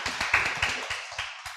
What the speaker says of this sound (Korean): 이병건 대표이사님께 다시 한번 박수 부탁드리겠습니다